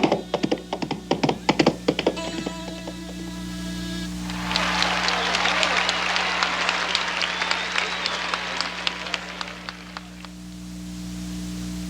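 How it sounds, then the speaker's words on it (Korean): Applause from a crowd rises midway and holds as a steady wash of clapping, following a stretch of sparse taps and sustained electronic tones over a constant low hum. "다시 말을 타고 달리는 이순신에게 사람들은 우리와 같은 박수를 보냈어요."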